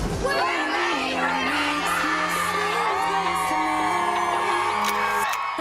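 Large outdoor crowd on a TV morning show plaza cheering, whooping and shouting continuously, loud and close, with children's shouts in the mix and music playing underneath.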